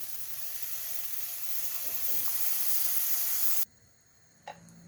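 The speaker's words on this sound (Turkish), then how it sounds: "Tavamız ısınınca hafif tereyağı sürüyoruz" Butter sizzling in a hot pan before gözleme batter goes in, a steady loud hiss that cuts off sharply near the end, leaving a quiet pause and one small clink.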